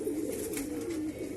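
Pigeons held in the hand coo softly in a short, low, wavering call, close and quiet, with no talk.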